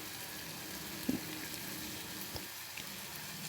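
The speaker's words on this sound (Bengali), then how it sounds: "এরপর টমেটোটা ভালো করে কষিয়ে নিতে হবে।" Tomato puree, made from two blended tomatoes, sautés in oil for potato curry, producing a faint, even sizzling hiss with a couple of small taps.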